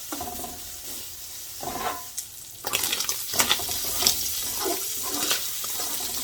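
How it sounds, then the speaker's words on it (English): Beef bacon frying in a pan over a raised flame, a steady hissing sizzle with scattered sharp pops and bursts that grow louder and busier partway through. "this is how our bacon is looking. It's popping all over the place."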